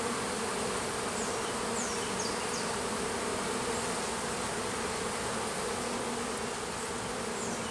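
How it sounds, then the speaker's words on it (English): Honeybees swarming densely around a hive with suspected robbing, a loud continuous close buzz filling the whole stretch with no pauses. "The bees need to stay in there for a bit, try and protect themselves."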